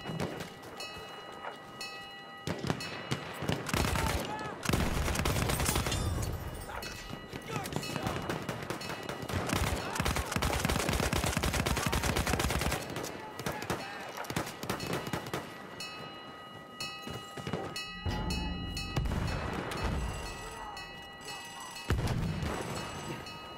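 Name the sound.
gunfire and artillery barrage in Battlefield 1 video game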